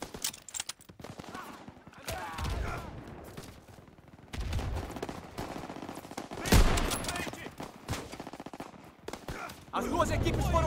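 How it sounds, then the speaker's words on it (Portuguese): Rapid gunfire in the World War II shooter Call of Duty WWII, with bursts and single shots aimed at tanks, dense and loud amid battle noise and explosions throughout. "Tá atirando nos nossos tanques!"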